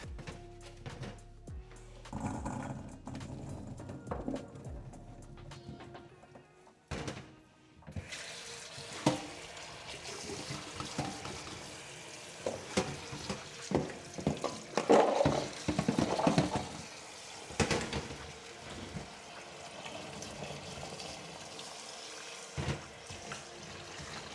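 Tap water running into a sink while olives are washed at home before being crushed for homemade olive oil, a soft continuous splashing and trickling with clatters of handling, close and fairly quiet.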